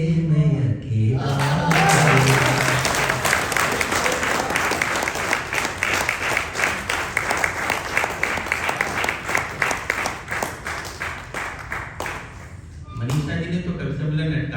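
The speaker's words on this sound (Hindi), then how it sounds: "तभी वो तालियां बजाते हैं" Audience at a Hindi poetry gathering (kavi sammelan) bursts into sustained, dense applause lasting over ten seconds, fading out at the end, with voices talking briefly before and after.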